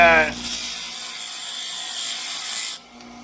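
A bench grinder smooths the edge of aluminum knife scales. A steady high whine and grinding rasp hold for about three seconds, then drop off sharply.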